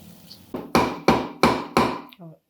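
Peppercorns pounded to crush them, five heavy evenly spaced thuds at close range, each ringing briefly, followed by a short rattle of the crushed pieces.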